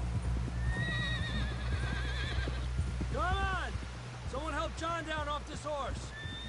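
A horse whinnies several times over a steady rumble in the video game Red Dead Redemption 2, with soft hoof clops and a voice speaking nearby.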